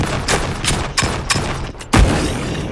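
Video game gunfire: a series of sharp close shots in irregular rhythm, followed by a heavier grenade explosion thump near the end.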